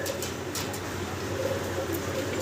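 Fancy pigeons at a pigeon seller's place cooing in low, steady murmurs, close by under a constant background hum, with faint clicks now and then.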